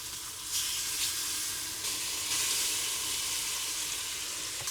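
Lemon slices caramelizing in the bottom of a saucepan give a steady, close sizzle and fizzing hiss that holds constant with a few brighter bursts, no voices.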